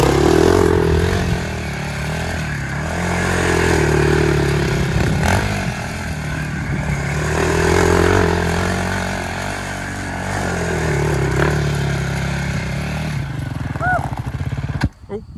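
A quad ATV engine revs up and down in slow swells, close and loud, then cuts out abruptly as it stalls near the end. People talk over the engine noise.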